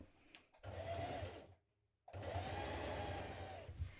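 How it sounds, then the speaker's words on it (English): An overlocker finishes the top edge of a coat in two fast, whirring runs separated by a brief silent pause, close and fairly quiet. "8mm away from that we can also overlock our top edge here"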